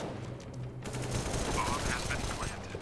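Gunfire in Counter-Strike: Global Offensive, a quick burst of rapid shots followed by rattling fire, fairly faint and under a game's ambient noise, with voices talking over it.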